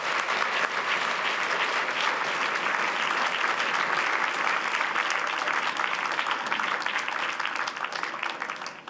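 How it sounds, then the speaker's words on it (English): Warm, dense applause from a large audience greets Ursula von der Leyen, President of the European Commission, holding steady for several seconds before tapering near the end. "So a big applause to President Ursula von der Leyen."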